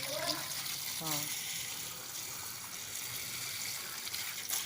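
Water pours and splashes steadily onto a potted plant and its soil, close by and continuous, while a voice and a brief spoken word sit over it at the start.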